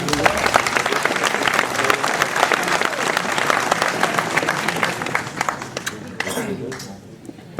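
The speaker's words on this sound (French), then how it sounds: "On peut l'applaudir." An audience at a mayor's New Year address in a French town hall bursts into lively applause that stays strong for several seconds before tapering off, with voices audible beneath it.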